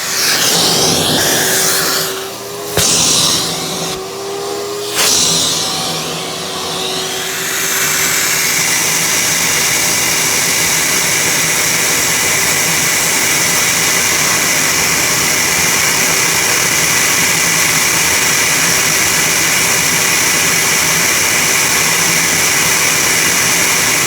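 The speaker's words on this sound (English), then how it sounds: "we're going to turn on our shop vac" A shop vac, hose aimed at a Whirlpool Duet washer, roars loudly and steadily after a few brief starts and stops, then holds a constant whine and rush to the end.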